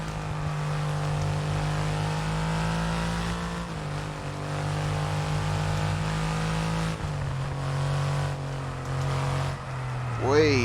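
A supercar engine in F1 22 holds a steady droning note with small pitch shifts while racing at speed, loud and continuous, ending in a brief rising whine.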